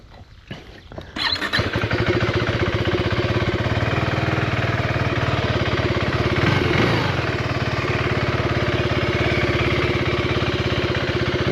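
KTM 390 Enduro R motorcycle, fitted with a newly installed quick shifter, starts up and then runs steadily with a loud, continuous engine drone, rising briefly in the middle.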